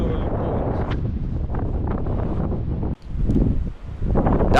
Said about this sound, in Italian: a causa del vento hanno chiuso il ponte.